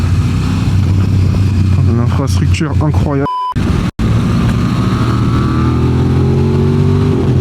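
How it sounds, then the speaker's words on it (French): A loud motorcycle engine revs and roars continuously, with someone talking over it briefly before the engine drone carries on alone. "Et sa moto elle bombarde, c'est incroyable."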